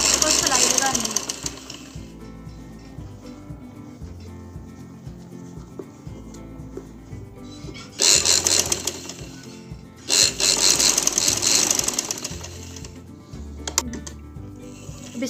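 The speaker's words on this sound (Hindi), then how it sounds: "ऐसे बैन का कपड़ा और शर्ट के कपड़े को सिलाई लगानी है।" A sewing machine stitches a band onto ladies' kameez fabric in loud, fast mechanical bursts, with quieter stretches between runs while someone speaks in Hindi.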